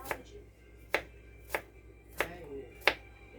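A knife chops celery and onion on a cutting board for tomato bisque, five crisp, evenly spaced strikes roughly every two-thirds of a second, close-up and clear with little else around.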